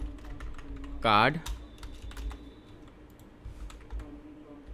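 Quiet keystrokes tap out on a computer keyboard in short irregular bursts, close and soft, while someone speaks briefly in Hindi over them.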